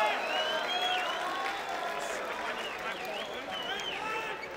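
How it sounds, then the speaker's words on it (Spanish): Crowd at a freestyle rap battle applauding and cheering in a steady wash of noise, with whistles and shouts over it, heard from within the audience. "Aplausos para estos dos cabrones."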